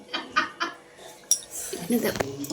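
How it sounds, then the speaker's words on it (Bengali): Plates and metal dishes clatter a few times in sharp, close clinks while rice, vegetables and mutton are served onto two plates in a home kitchen, with a faint voice in the background. "আমি এবার দুটো থালা নিয়ে বসেছি"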